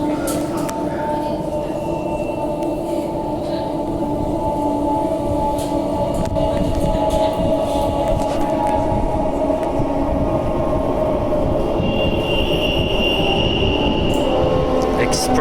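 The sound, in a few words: express passenger train arriving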